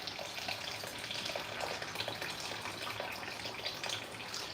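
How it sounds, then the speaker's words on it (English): Water poured steadily into a pot of half-cooked rice, a continuous soft gushing and splashing at moderate distance, without talk. "So I've just added lots of water."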